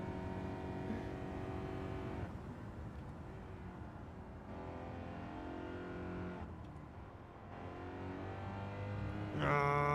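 In Gran Turismo 7, a Honda Fit Hybrid engine revs up and down in repeated rising whines as it shifts through gears during a race, with a steady moderate drone between the climbs.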